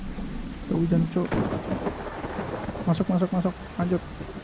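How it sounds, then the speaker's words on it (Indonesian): Rain falling during a road ride from Wonogiri to Semarang makes a steady broadband hiss with heavier thumps, heard under loud talk from people close by. "Wih, udah hujan, coy."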